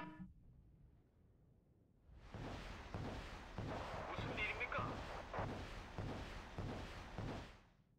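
Bombing in the war video game Wargame: Red Dragon, a quiet start followed by a sustained roaring rumble of blasts and explosions that swells and pulses for several seconds before cutting off.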